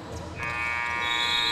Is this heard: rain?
no